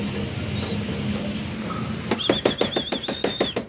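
Young pigeons burst out of a loft's open release door, their wings clapping in a quick run of sharp, rhythmic flaps up close after a calmer stretch of outdoor ambience, with a few thin chirps above.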